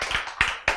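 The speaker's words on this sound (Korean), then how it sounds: "공감하는 사람 박수치기." A few sharp hand claps, three quick strikes, come from listeners during a Korean lecture on healthy eating, close and fairly loud in a short burst.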